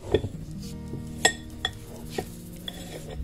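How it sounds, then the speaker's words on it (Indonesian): A spatula stirs nastar cookie dough in a bowl, giving a few sharp clinks and soft scraping knocks at irregular intervals, close and fairly quiet. "jadi aduknya selalu lebih baik dengan spatula."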